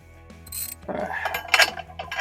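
A socket ratchet turns a bolt on the Metal Cloak rear differential skid plate of a Jeep JK, giving close, crisp bursts of rapid clicking with brief pauses and some metallic clatter between strokes.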